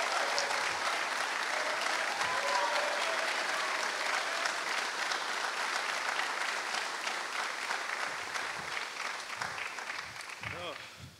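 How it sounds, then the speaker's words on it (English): Sustained applause fills a room at a college football early signing day show, steady and dense clapping that tapers slightly toward the end, with some voices mixed in. "Let's give him a round of applause."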